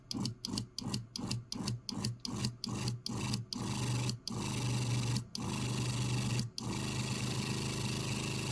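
Seaflo 42 series water pump running in bypass, a close continuous mechanical hum and whir that starts with rapid regular pulsing cutouts, then settles into a steady drone broken by two brief dips.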